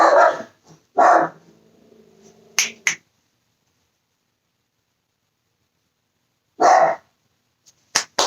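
Dogs bark in short loud bursts nearby, a few barks early on, then silence, then more barks toward the end.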